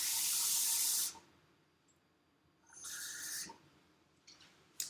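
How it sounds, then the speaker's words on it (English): Water runs from a tap into a mason jar in a loud hissing gush for about a second, stops, then flows again in a second shorter burst, followed by faint dribbles and clinks, with no voices. "you're going to take your mason jar and you're going to fill it up with water all the way to that line"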